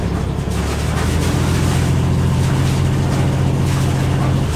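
Engine of a Beneteau Oceanis 38.1 sailboat revving in neutral, a steady loud diesel drone with a constant throb, close by and alone, holding an even pitch throughout.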